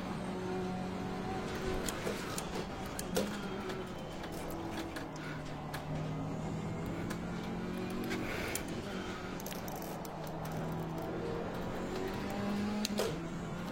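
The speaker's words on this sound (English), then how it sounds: "I hit the rev limiter there" A car engine revs hard through a corner exit and bumps against its rev limiter, a steady, buzzing engine drone with wavering pitch throughout, close and continuous.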